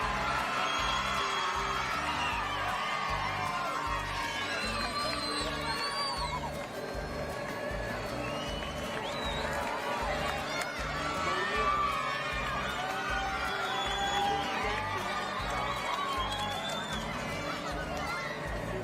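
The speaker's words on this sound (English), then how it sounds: "I screamed down into and past that tumultuous crowd." Roaring roadside crowd at a cycling championship in Rwanda, a continuous wash of cheering, shouting and chatter with whoops rising and falling, and a voice talking over it throughout.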